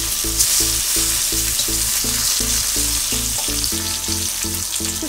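Pointed gourd slices fry in darkened cooking oil for a Bengali fish curry, giving a steady, close sizzle and crackle throughout, with a regular pulsing low beat running underneath.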